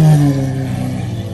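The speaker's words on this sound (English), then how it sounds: "this is the loudest Aventador I think I've ever heard" A loud Lamborghini Aventador engine at a cars-and-coffee meet gives a deep, harmonic exhaust drone that starts strong and eases slightly over a very brief moment, close and alone.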